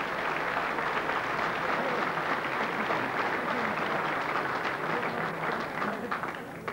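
A crowd at a 1988 GAA All Stars hurling award ceremony gives warm, sustained applause, a dense even rush of clapping that continues at a steady level.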